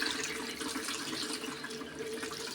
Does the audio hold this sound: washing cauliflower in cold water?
yes